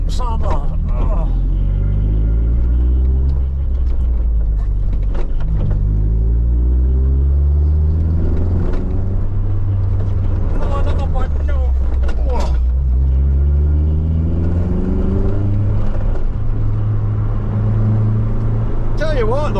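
A Vauxhall Nova 1600 rumbles along with loud engine drone that rises and falls as it slows and speeds up over speed bumps, with occasional thumps. People talk inside the car throughout.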